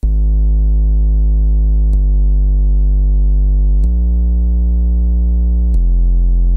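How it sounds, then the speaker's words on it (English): Square wave bass synth from a stock Serum preset, playing four long sustained notes that step between pitches, each with a sharp attack, loud and dry with no other sounds. "There's a square wave bass that I took from the stock Serum presets."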